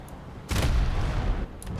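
A warship's secondary guns fire in War Thunder naval combat: one heavy, booming report with a rolling rumble that decays over about a second, then quieter background battle noise.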